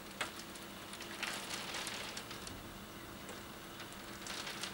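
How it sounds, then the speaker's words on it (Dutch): Hail mixed with wet snow patters steadily on surfaces outdoors during a spring storm, a faint, continuous rain-like hiss with scattered sharper ticks of hailstones striking, no talking. "Hagel, ik denk zo groot als een dopert."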